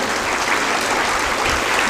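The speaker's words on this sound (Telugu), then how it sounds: "అందుకే మిమ్మల్ని చప్పట్లు కొట్టమన్నాను." Dense, loud applause from a large audience at a public speech event in Karimnagar, a continuous wash of clapping with no pauses.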